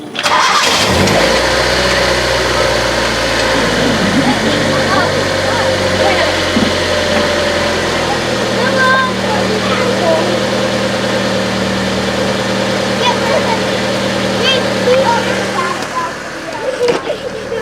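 Honda Civic running a stock muffler with aftermarket exhaust, cranking over and catching, then settling into a steady, fairly quiet idle heard up close.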